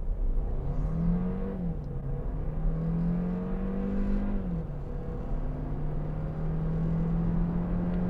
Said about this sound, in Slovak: Dávam plný plyn.